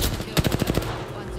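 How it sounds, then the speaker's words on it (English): Automatic weapon fire in the battle royale game Apex Legends, a quick burst of about seven rapid shots lasting under half a second, loud and close, followed by a softer lingering game ambience. "There's another fucking guy shooting at me."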